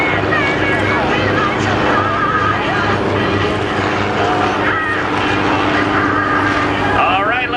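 A steady, droning propeller engine of a Stearman biplane in slowed flight hums throughout, with a voice talking over it.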